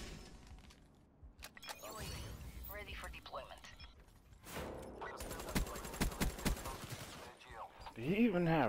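Gunfire in Call of Duty Black Ops 3 on the Skyjacked map: a busy burst of in-game shots and mechanical weapon clatter amid game effects, with a voice chattering over parts of it.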